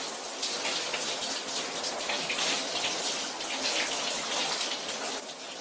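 Water splashes and pours continuously in a bathtub as a person washes their legs, a dense, loud, steady wash of watery noise with no talking.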